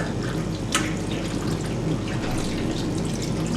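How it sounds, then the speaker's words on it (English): Hot water is poured into a pan of Greek-style stuffed tomatoes and peppers with rice filling, giving a soft, close, continuous trickling splash that runs for several seconds. "And then we're also going to add our hot water"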